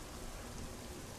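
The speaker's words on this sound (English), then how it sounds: "It's gonna rain now." Rain in the video game Little Inferno makes a steady, even hiss of falling water, dense and continuous at low volume with no clear individual drops and no talking.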